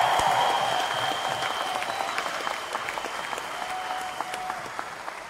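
Loud, sustained applause from a large audience at a leadership training event in a stadium, a dense steady wash of clapping with a few sharper claps standing out, slowly easing in level over several seconds.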